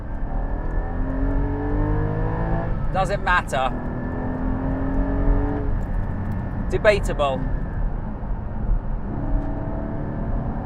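A Porsche 718 Cayman GT4's engine drones steadily while driving, with someone talking briefly over the constant hum.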